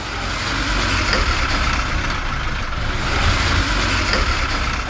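Steady motor vehicle engine running continuously, a broad low rumble with even hiss and a slight swell midway, close and alone without talk.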